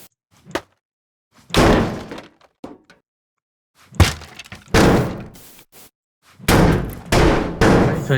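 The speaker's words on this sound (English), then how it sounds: "I gotta disengage these rivets one by one." Rivets are broken loose one by one on a space station hull in the game Teardown, heard as a series of close, heavy thunks and cracking impacts in bursts separated by short silences.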